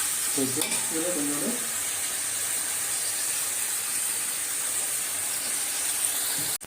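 Onions for chicken biryani fry in a pot, a dense continuous sizzle and hiss held close and loud, with brief stirring scrapes near the start and a clatter at the very end.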